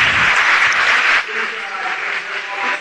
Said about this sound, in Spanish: Un aplauso a todos estos niños.